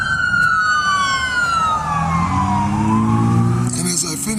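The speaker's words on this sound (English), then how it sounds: "Man, you hear the sirens?" A loud emergency siren wails with gliding pitch sweeps, falling then rising, with a second lower siren tone joining near the end.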